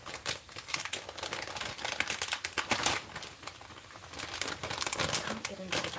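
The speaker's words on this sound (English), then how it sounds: "Can't get into the bag." Someone crinkles and pulls at a plastic bag of pasta, trying to open it, making close, irregular crackling bursts, with speech also present.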